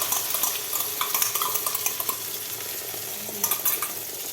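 Beaten egg poured into a pan with fried carrots and beans sizzles steadily, with light scraping and clinks from a spatula against the pan close by.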